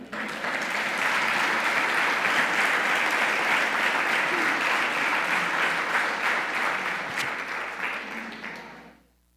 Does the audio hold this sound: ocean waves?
no